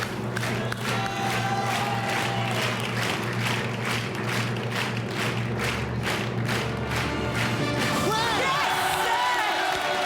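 Studio audience applause on a French game show, 1 contre 100, a dense, loud, steady wash of clapping and cheering lasting throughout, with a bright swell toward the end.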